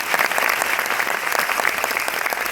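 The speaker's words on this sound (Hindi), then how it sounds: "एक बार फिर से हो जाए यार जोरदार तालियां" Dense applause from a seminar audience, many hands clapping at once in a steady, fairly loud wash of claps filling the room, with no talk over it.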